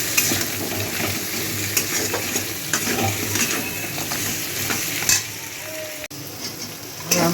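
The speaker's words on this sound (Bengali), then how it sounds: "ভাজা মুড়োগুলোকে খুন্তি দিয়ে একটু নাড়াচাড়া করে নিতে হবে মশলাগুলোর সাথে।" Fried rohu fish heads are tossed with spices using a metal spatula in a hot pan, a steady loud sizzle running throughout with repeated scraping stirs on top.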